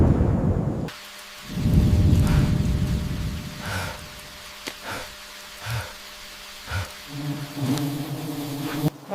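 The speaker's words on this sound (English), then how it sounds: "The thunder is getting closer." Thunder rolls in the distance near a Korowai tree house in the forest, a low rumble that gives way to scattered softer thumps and faint hums.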